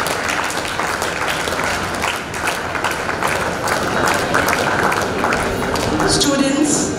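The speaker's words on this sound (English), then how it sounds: "Let's clap for them and cheer them for this moment that they have been waiting for the last 5 years." Audience at a special school's silver jubilee ceremony claps and cheers for students, a dense, steady wave of applause that holds throughout with crowd voices mixed in.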